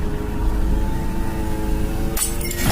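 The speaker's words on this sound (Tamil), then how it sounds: "பாட்டில் உடையுது." A glass bottle breaking: a sharp, bright shattering crash that bursts in near the end, loud and close, cutting through a steady droning background hum.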